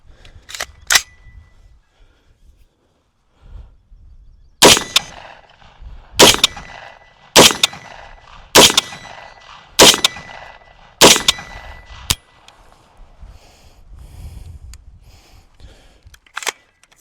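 A Mountain Man Defense Roughneck-15 rifle firing steel-cased ammo at steel targets: about eight sharp, loud single shots spaced roughly a second or more apart, each with a ringing clang, outdoors with no talk.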